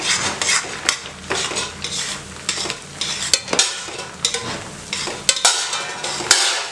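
Bread pieces are stirred into hot caramel in a pan, giving close scraping and stirring strokes in an irregular rhythm, with soft sizzling and a few sharp clinks of the utensil against the pan.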